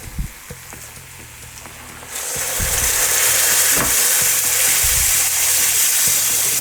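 Water poured into a hot pan of rice seasoned with salt and black pepper for a spiced onion and currant pilaf: a few quiet taps, then a sudden loud, sustained rushing sizzle that continues to the end.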